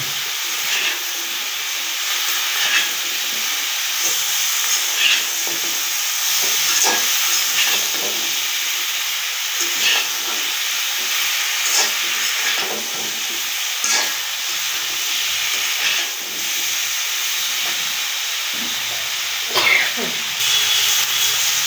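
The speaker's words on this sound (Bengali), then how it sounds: "তরকারিটা ভালোভাবে লেড়ে চেড়ে মশলাটা সব তরকারির সাথে মাখিয়ে নেব" Cauliflower, flat beans and potato tossed through fried spice masala in a new kadai for a pangas fish curry: a steady close sizzle and hiss with repeated scraping stirs of a spatula, continuous throughout with no voices.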